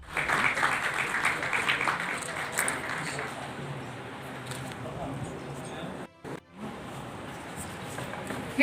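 Applause at a teachers' association honoring ceremony, a crowd clapping loudly at first and then thinning into scattered claps, with a brief dropout partway through and a voice speaking underneath.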